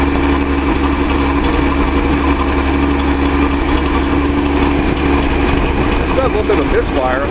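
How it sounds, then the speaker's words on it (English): A Datsun 280Z with an L28 engine idles loudly and close with a slight misfire, its steady rumble broken by small uneven stumbles, while someone talks over it near the end. "It does a little bit of a misfire, I'm not sure why."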